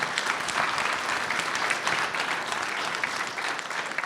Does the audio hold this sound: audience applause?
yes